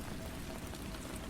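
Steady rain on a surface, a soft continuous patter of drops that stays even and unbroken throughout, with no voices.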